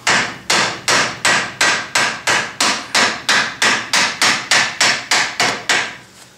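Steady, evenly spaced taps of a soft-faced hammer striking a metal CV joint shaft, about three per second, repeated many times without any talking.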